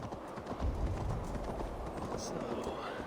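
A horse's hooves clip-clop at a steady run in the video game Assassin's Creed Valhalla, Ragnarok DLC, a continuous quiet patter mixed with game ambience.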